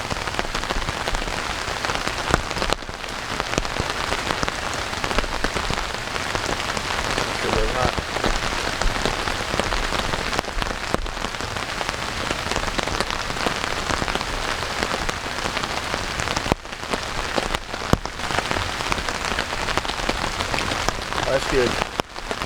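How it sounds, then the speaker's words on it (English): Heavy rain drums steadily on a tarp over a winter camp in very wet conditions, a dense, close, continuous patter with no break for the whole stretch. "just sitting under a tarp listening to the rain"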